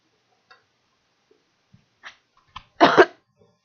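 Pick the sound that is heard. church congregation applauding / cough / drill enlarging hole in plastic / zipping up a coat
cough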